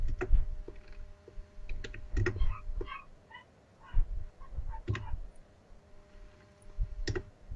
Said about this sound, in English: so you type your answer